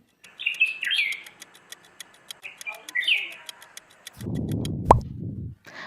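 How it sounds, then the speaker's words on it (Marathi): A bulbul sings short bright whistled phrases, clear and moderately near, followed by a lower rumbling burst and a sharp pop. "बरोबर हा बुलबुल आहे"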